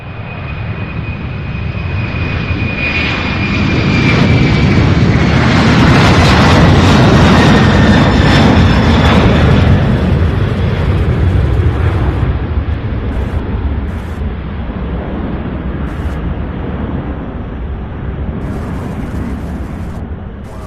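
A jet aircraft takes off from Louisville International Airport, a loud rumbling engine roar that swells to a peak midway and then slowly fades as a high whine drops in pitch, with no voices.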